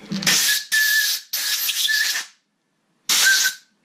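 Carb cleaner sprayed from an aerosol can in four sharp hissing bursts, the last after a brief pause, each close and loud with a thin whistling edge.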